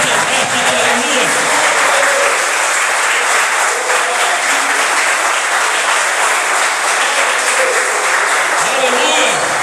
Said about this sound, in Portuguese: Aplauda ao Senhor dos exércitos, aleluia.